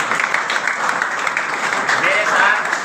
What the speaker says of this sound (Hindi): लड़कियों के लिए भी एक बार जोरदार तालियां।